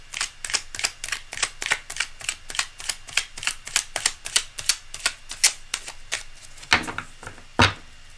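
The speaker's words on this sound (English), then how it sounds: "I'm going to shuffle and cut again" Tarot cards are shuffled and cut by hand: a long run of crisp, evenly paced papery taps and flicks, close and fairly quiet, ending with two heavier slaps as the deck is cut.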